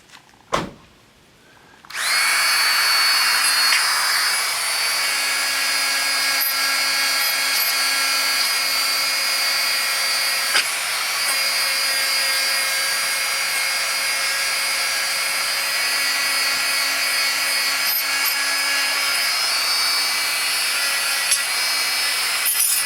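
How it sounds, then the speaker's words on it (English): A Dremel rotary tool fitted with a wire wheel grinds steadily on the carburetor of a 6.5 Briggs engine, a loud continuous high whine that starts abruptly after a short click and holds nearly constant, with no talking. "I'm going to take a Dremel tool with this type of wheel on it, a wire wheel, and I'm going to see if I can do any good"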